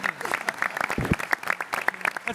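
Applause for a governor's cabinet members, a lively close round of individual claps at an uneven rhythm, with brief voices breaking through in the middle.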